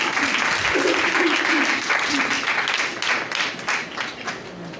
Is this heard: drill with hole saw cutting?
no